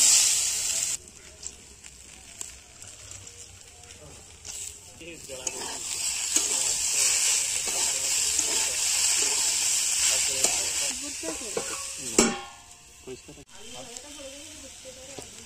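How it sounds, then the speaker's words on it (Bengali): Potatoes frying in a pan with spring onion and green chillies, a steady close sizzle with stirring scrapes throughout and a brief louder burst near the end. "আমরা আজকে পেঁয়াজ কলি আলু ভাজা ভাজছি।"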